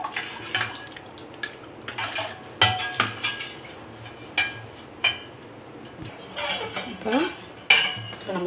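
A spoon clinks and scrapes against a bowl while stirring cornflour, sugar and salt into water, irregular close-up metallic taps and knocks with no talking.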